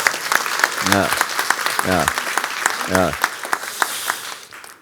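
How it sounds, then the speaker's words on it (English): A conference audience at a summit gives a steady round of applause for several seconds. A voice speaks briefly over the clapping. "I think we should give one round of applause for Shika for this wonderful moderation."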